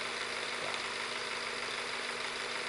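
A Visible V8 model engine idling at about 773 RPM runs with a steady, even whirring drone and a faint rattle. The sound is close and constant for under three seconds, with no talk.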